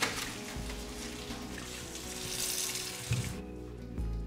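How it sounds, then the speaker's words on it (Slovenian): Hands are washed under a running tap, with a steady, close hiss of water splashing into a sink for about four seconds and a few small knocks near the end, with no voices. "Zdaj si bomo še pa roke umile."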